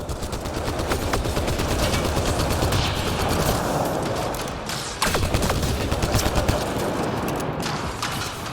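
A turret in the video game Mass Effect Andromeda fires sustained automatic bursts, loud and dense, a continuous rattling fusillade with a brief dip midway before resuming.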